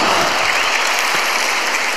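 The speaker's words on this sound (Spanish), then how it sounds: "Quiero que le demos un fuerte aplauso a Alberto." Dense audience applause for a performer named Alberto during a comedy show at the Viña del Mar festival, loud and sustained from a large crowd, a continuous wash of clapping.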